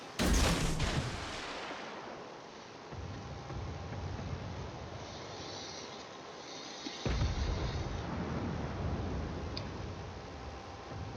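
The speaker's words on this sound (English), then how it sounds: "Those torpedoes sound close." Torpedo explosions near a ship in a naval combat video game, a heavy boom at the start and another midway, set against continuous rumbling battle noise and engine hum, with no talking.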